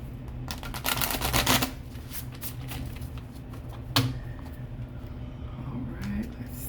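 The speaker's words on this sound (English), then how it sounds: "All right, one more shuffle." An oracle card deck is shuffled by hand in bursts of close, crisp riffling and flicking, with a soft steady background hum underneath.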